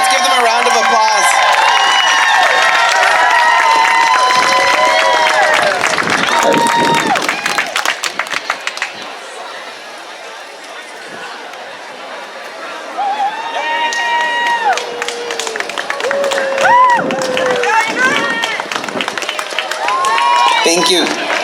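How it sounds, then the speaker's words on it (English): At a Pride celebration on the Monterey Peninsula, California, a crowd cheers loudly, whooping and clapping. The noise eases for a few seconds, then swells back into shouts and applause. "Let's give them a round of applause."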